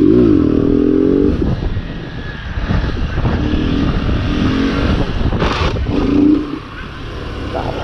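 A Honda Start 160 motorcycle engine revs hard and loud, rising and falling through gear shifts as it accelerates, close to the rider with wind noise.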